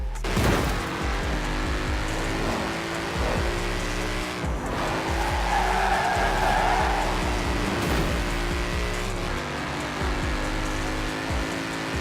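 A car engine in Forza Horizon 4 revs hard and climbs repeatedly, with brief dips between shifts as it pulls through second to fifth gear, loud and continuous throughout.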